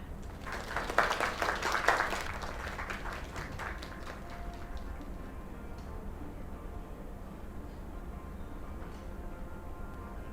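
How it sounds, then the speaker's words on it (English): Crowd applause swells early, with dense clapping over the first couple of seconds, then thins into lighter scattered claps and room murmur. "Another round of applause."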